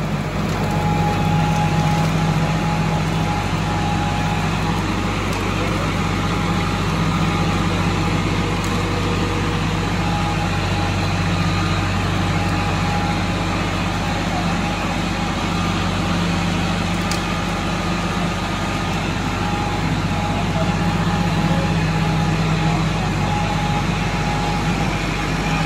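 A tractor idles at roughly 1600–1650 RPM while powering a sugarcane mill through its power take-off, giving a constant, even engine drone with a mechanical hum that runs unbroken throughout.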